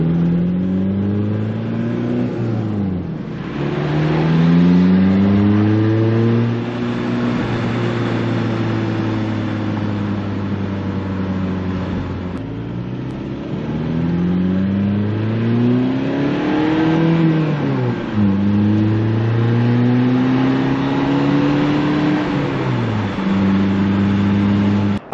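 A Volkswagen Beetle TDI diesel with bigger injector tips runs and revs repeatedly, its engine tone climbing and falling in several long sweeps over about twenty-five seconds, loud and close with no talk.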